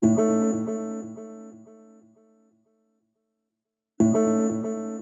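An experimental sample layer of small, tonal chops with delay, bright plucked notes repeating and fading as the echoes decay into silence, then a new burst of the same chopped figure returns near the end.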